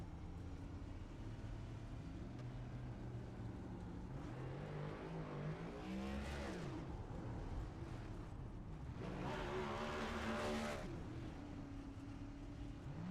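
A stock car engine roars through a burnout in a racing video game set at Daytona, with sweeping revs rising and falling and two loud surges of tyre-spinning noise, fairly distant and subdued.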